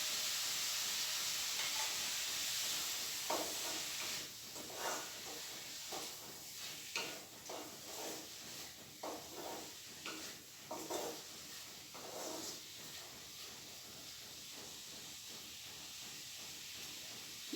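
Sliced onions sautéing in a pan with salt give a steady close hiss and sizzle, with a stretch of soft stirring scrapes partway through.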